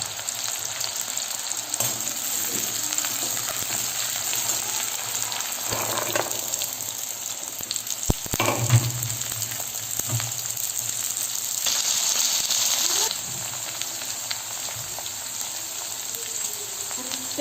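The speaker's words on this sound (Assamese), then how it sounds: "আজি ব্ৰেকফাষ্টতে আলু মটৰ ভাজিম আৰু পুৰি বনাম।" Potatoes and peas fry for breakfast in a steady, close, hissing sizzle, with a few brief clatters and stirring bumps partway through. No one speaks.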